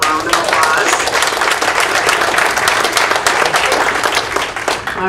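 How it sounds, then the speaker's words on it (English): Audience applause for a secondary school Principal of the Year at a career readiness event, a dense, steady wash of many hands clapping filling the whole stretch, loud and close, fading slightly at the end. "So if we can give him a round of applause"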